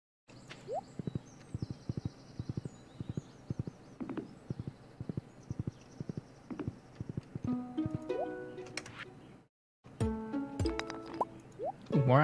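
Horse hooves clip-clop in a steady rhythm in Stardew Valley, about a dozen evenly spaced clops followed by short bright game chimes and effects, with a brief silent gap near the end.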